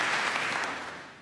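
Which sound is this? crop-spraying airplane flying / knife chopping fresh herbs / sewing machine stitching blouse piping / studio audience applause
studio audience applause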